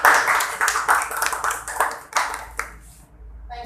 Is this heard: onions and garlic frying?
no